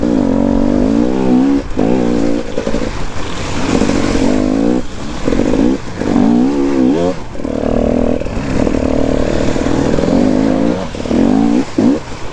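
An enduro motorcycle churns through deep mud in third gear, its engine surging and fading in repeated loud bursts of revving and bogging. Close, continuous engine noise mixes with clattering, and no one talks.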